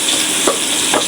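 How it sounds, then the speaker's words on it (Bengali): Onion fries in hot oil with a brief, dense sizzle and a couple of quick stirring scrapes, close and loud. "তেল দিলাম, পেঁয়াজ দিয়ে আমি তেল বসা দিলাম।"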